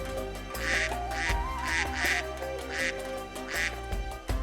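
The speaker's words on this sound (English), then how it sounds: "Oh, there's a duck." A duck in the zoo-building video game Wildlife Park 2 gives a string of about six loud, nasal quacks at a fairly regular pace over a steady low game hum, heard up close without talk.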